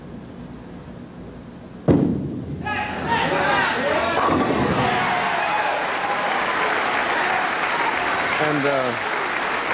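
A bowling crowd in an arena bursts into applause and cheering after a sudden loud impact, sustained clapping with shouts and whoops continuing under a single spoken word.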